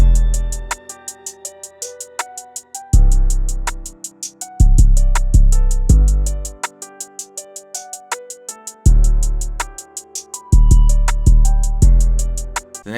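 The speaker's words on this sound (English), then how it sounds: "I added these, boosted spins 808s that sound like this" Boosted 808 bass hits in an FL Studio beat, loud booming low notes that swell and decay in a syncopated pattern beneath rapid hi-hats and a melodic loop, close and dominant with no voices.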